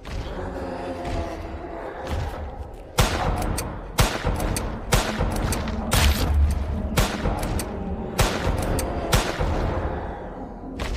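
Gunfire in a Roblox horror forest game, a loud close burst of repeated sharp shots with heavy booming thuds, firing in irregular clusters for several seconds with no talk over it.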